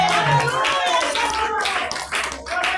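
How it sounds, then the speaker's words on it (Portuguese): A church congregation claps loudly during a Holy Communion worship service, a dense, steady patter of many hands that carries on throughout, with voices speaking or singing over it. "pode bater palmas fortes"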